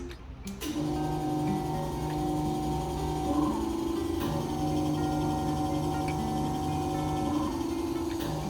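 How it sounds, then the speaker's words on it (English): A GRAHL VelaShape vacuum RF and 40k cavitation slimming machine runs during a cellulite treatment on cream-covered skin, giving a steady, close electrical hum with a tonal whine that holds throughout, with no talking. "you'll see how the machine is sucking in the pockets of fat"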